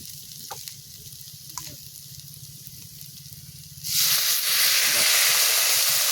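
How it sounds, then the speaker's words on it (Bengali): Small splash of water poured into a hot pan holding a sour curd and sugar mixture for Rajasthani malai onion; quiet stirring first, then a sudden loud, steady hiss that holds to the end. "সব দিয়ে আনলাম একসাথে অল্প পরিমাণে জল দিয়ে দেবো"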